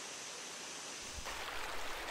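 Water flowing in Furnace Brook, a stream in Elmwood Park, as a steady broadband rushing wash that grows fuller and louder partway through, with no voices.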